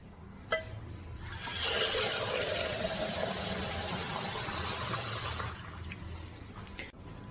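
Water pours into a pot of bones for making jus, a steady splashing pour rising in and holding for several seconds before tapering off, with small clinks of glass or pot before and after.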